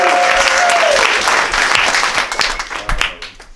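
A live audience at a Juneteenth poetry reading in a San Francisco hotel bursts into dense applause with cheers and whoops, close and loud, then thins and fades over a few seconds.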